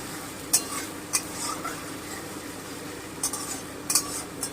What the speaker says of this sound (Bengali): একটু নেড়ে নিচ্ছি আমি একটু লবণ দিচ্ছি প্রচণ্ড ছিটছে